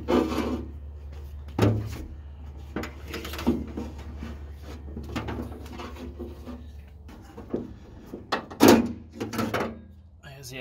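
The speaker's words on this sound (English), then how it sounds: "Nice rubber gasket track just comes right out." A rubber gasket track is pulled out of a Jeep Cherokee XJ door with close scraping, rubbing and creaking and several sharp clicks and thumps.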